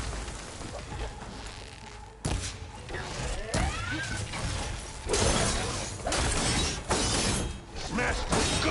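Loud smashing and shattering bursts in the video game Horizon Forbidden West, several sharp crashes with glassy debris scattered over a busy game mix.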